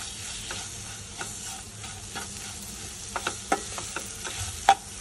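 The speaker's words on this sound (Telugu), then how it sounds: "కొద్దిగా అల్లం వెల్లుల్లి పేస్ట్ వేసుకొని కలుపుకుందాం." A spoon stirs chili powder and ginger-garlic paste into beetroot fry sizzling in a pan. A soft continuous sizzle runs under scattered scrapes and clicks, with a few sharper knocks toward the end.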